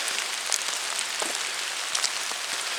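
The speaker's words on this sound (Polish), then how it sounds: "deszcz leje" Heavy rain pours through a forest, a dense, loud, unbroken hiss with occasional heavier drops standing out, close and steady with no voices.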